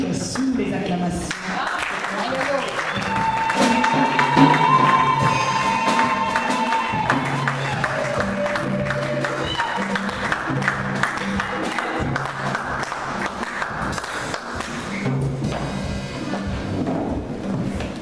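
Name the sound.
congregation applauding and cheering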